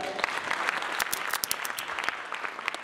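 Concert audience applauding steadily, a dense field of many hands clapping with sharper individual claps standing out throughout, fairly close and continuous with no talking.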